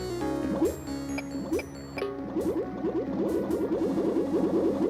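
Small lemmings dropping one after another into water in the puzzle game Lemmings Plus II, a run of soft drips and plops repeating quickly over steady game music, thickening toward the end.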